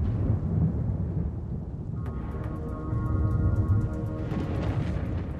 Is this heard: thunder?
yes